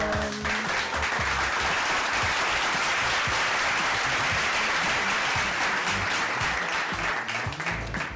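Loud, steady clapping recorded close on a podcast, a continuous bright rattle of many hands that keeps up at nearly even volume throughout.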